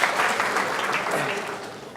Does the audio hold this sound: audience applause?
yes